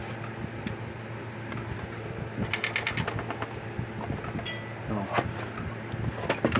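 A loose washer rattles and clicks inside a Kencove KF6000 EK6 fence energizer case as it is shaken, giving irregular bursts of close metallic ticking over a steady hum, with a voice speaking at times.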